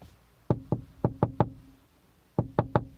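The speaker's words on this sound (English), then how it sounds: "Sounds like someone's knocking on a wall." Knocking on a wall comes in two bursts, five sharp knocks and then three more, each hollow and fairly close, with quiet in between.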